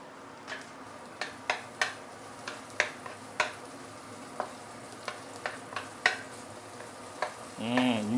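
Minced garlic and crushed salted black bean sizzle in a hot pan for a pork and green chili stir fry, a steady frying hiss broken by regular light taps and scrapes of a utensil stirring.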